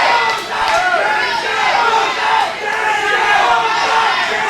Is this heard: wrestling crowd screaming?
yes